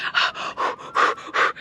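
Heavy, rhythmic panting breaths from a swimmer wading waist-deep into cold water in Scotland, close and loud, about five hard breath bursts with no talk.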